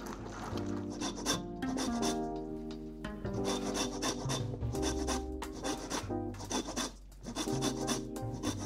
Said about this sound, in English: I'm also going to be zesting in the zest of a lime.